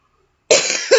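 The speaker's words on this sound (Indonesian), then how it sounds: "sedikit batuk" A single sharp cough bursts out after a moment of silence, then a second cough follows right after it. Both are close and loud, with no speech.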